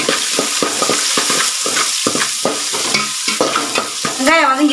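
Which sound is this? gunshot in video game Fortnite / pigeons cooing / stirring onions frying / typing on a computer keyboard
stirring onions frying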